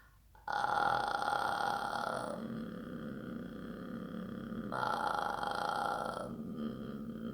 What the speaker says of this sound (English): We're literally just closing the mouth over the sound.